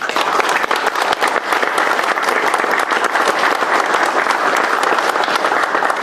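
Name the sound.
applause for the tournament staff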